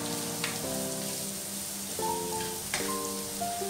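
Chopped ginger goes into a hot oiled pan while tempering for curd rice, giving a steady soft sizzle and crackle at close range, with quiet tonal kitchen background sounds over it.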